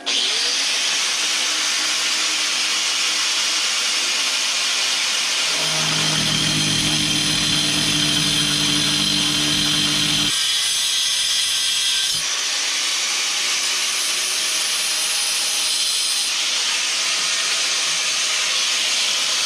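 A 4.5-inch angle grinder fitted with a cutoff wheel cuts a groove, giving a loud, continuous high whine with a deeper grinding tone that comes and goes as the wheel bites, close up and steady throughout.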